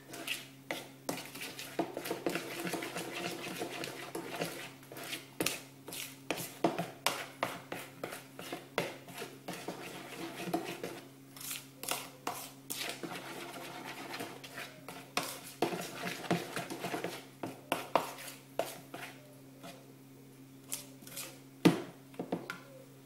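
A utensil mixes marble cake batter after baking powder is added, with quiet, irregular clinks and scraping strokes against a bowl repeating steadily for over twenty seconds, faint and close with no talking.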